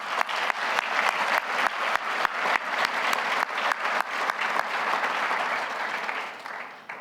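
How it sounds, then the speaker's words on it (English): Sustained applause from an audience at a business hall of fame ceremony, loud and close, with a few sharp individual claps standing out before it fades at the end. "Could I have an applause for him, please?"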